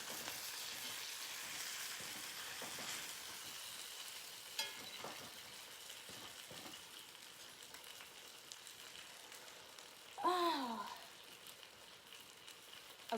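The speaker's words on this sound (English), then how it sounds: "frying away nicely." Breakfast frying in a pan on a lamp stove gives a faint, steady sizzle that runs throughout, with a few soft clicks and a brief tonal squeak near the end.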